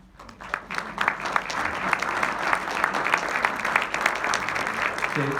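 Audience applause at a theatre comedy evening in Guilherand-Granges, steady dense clapping from a crowd that swells quickly and holds throughout.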